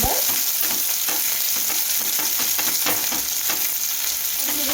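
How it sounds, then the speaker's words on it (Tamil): Onion, garlic and ginger sautéing in a hot pan give a continuous close sizzle, broken by the rhythmic scrape and clatter of a spoon stirring them through the oil. "வெங்காயம் பூண்டு அப்புறம் இஞ்சி இதெல்லாம் போட்டு கொஞ்சம் வதக்கிக்கணும்"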